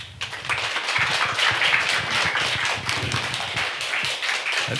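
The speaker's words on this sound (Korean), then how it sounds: "염영철 대표님을 따뜻한 박수로 맞이하겠습니다" Warm applause welcoming a speaker at a summer humanities concert at Jeongamsa temple in Jeongseon, a steady, medium-loud patter of many hands clapping at once, continuing throughout with no talking.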